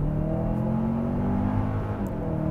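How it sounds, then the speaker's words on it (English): A 2024 Kia Sorento with a turbocharged 2.5-liter four-cylinder in eco mode is floored from low speed, its engine droning steadily and strongly for a couple of seconds as it pulls hard, heard from inside the cabin. "Okay, I'm gonna put it in eco, slow her right down and floor it like I had to avoid something in traffic or merge."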